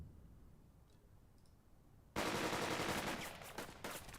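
Gunfire in the war strategy game Burden of Command comes after two seconds of near silence, then breaks out as loud, continuous rattling machine-gun fire and crackling shots that keep going without letup.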